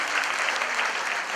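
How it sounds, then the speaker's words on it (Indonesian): Church congregation applause rings out as a dense, steady wash of clapping across the whole brief moment, fairly loud with no clear speech over it. "Tepuk tangan yang paling meriah bagi Allah kita."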